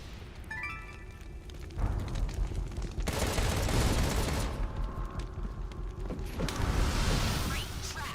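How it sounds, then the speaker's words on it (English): Gunfire blasting at a locked gate in the video game Contra: Rogue Corps, dense bursts of shots that swell loud from about two seconds in and continue in waves, with brief lulls, alongside game effects. "I'll just shoot down this fucker."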